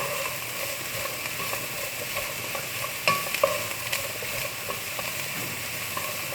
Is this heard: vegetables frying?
yes